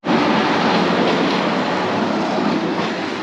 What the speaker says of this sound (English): The bamboo train.